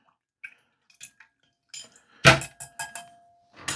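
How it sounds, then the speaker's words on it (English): A metal spoon clinks and scrapes against a cup while stirring coffee from a Polish-supplied Ukrainian military ration, with a few faint taps and then a quick burst of louder clinks, close and alone. "Give that coffee a stir."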